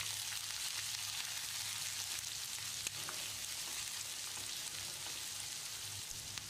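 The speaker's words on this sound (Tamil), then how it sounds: "கண்ணாடி பதத்துக்கு வெங்காயத்தை வதக்கிடலாம்" About 120 grams of finely chopped large onion with curry leaves and asafoetida sautés in hot oil in a pan for brinjal capsicum rice, giving a steady, close, continuous sizzle with faint stirring and no voices.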